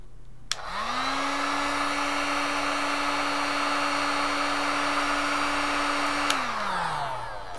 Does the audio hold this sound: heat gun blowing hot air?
yes